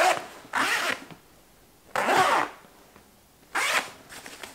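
A zipper on a gear pouch is pulled three times, each a short, rasping zip separated by quiet pauses, close and clear.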